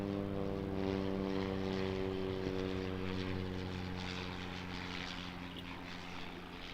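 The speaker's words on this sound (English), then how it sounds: "As we've got a Barrier Air Cessna 208 coming in." Barrier Air Cessna 208 turboprop coming in at Auckland Airport, a steady droning propeller hum with layered engine tones, constant and fairly distant, with no talk over it.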